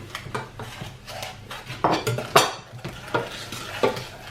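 Sugar goes into melted butter in a pan on the hob and is stirred, with close clinks and scrapes of a utensil against the pan and a soft sizzle underneath.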